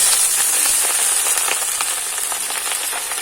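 Chench bhaji greens dropped into a hot chili, garlic and onion tempering in a Chhattisgarhi-style kitchen, giving a loud, steady sizzle and crackle of frying oil throughout, with no voices.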